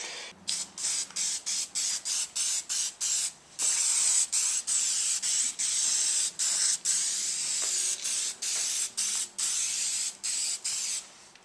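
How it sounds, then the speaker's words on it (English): A can of clear sealant spray paint sprays in a steady run of short bursts with brief pauses between them. Each burst is a loud, close hiss. "There's lots of different versions of this little spray paint here, and it just seals it."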